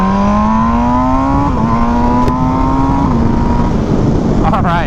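MV Agusta Brutale motorcycle accelerating hard through gear changes, the engine note climbing steadily and stepping down at each shift, loud and close, with brief voice-like sounds near the end.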